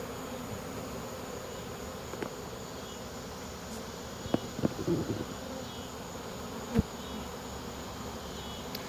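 A huge swarm of honey bees hums continuously in the bed of a pickup truck, a dense, steady buzz with a few brief knocks and thumps nearby.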